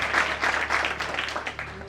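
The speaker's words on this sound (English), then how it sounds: "let's clap hands for him" A congregation at a church conference applauds, a dense, continuous clatter of many hands clapping together, loud and steady throughout.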